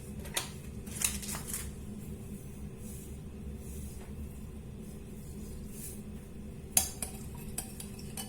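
Warm milk with vanilla sugar and a teaspoon of baker's yeast being stirred in a bowl, with soft scattered clinks of a spoon against the dish over a steady low background hum, and a sharper clatter near the end.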